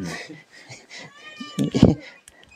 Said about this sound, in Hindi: तो ये जो बिल्ली है